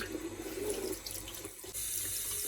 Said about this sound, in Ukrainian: Отже, тепер я просто включаю проточну воду, дивлюся, щоб вона була ледь тепленька.